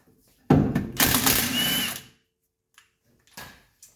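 A power tool on the brake caliper bolts of a 1985 surf wagon, 19mm bolts, gives one loud whirring burst of about a second and a half with a short pause, then quiet clicks and small clunks.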